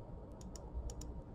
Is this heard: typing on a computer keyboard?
yes